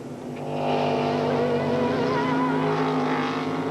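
A 1995 IMSA World Sports Car prototype brakes hard into a very quick left-hander at Road Atlanta, its loud, sustained engine note dropping and shifting with downshifts over the full few seconds, with no voices.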